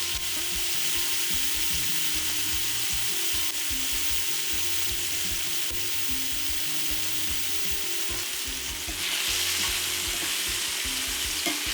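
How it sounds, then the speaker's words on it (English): Beef liver searing in a hot pan alongside onions and peppers, a loud, steady, dense sizzle that fills the whole stretch without pause and grows slightly stronger near the end. "start searing the liver, preferably in batches"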